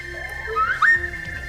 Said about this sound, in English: That gets the slide whistle.